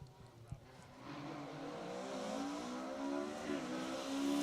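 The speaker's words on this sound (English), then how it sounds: "you can hear the engine notes" Rally car on an asphalt stage of the Manx Rally, engine note rising from distant and faint to a louder revving drone as it approaches, with a brief sharp knock near the start.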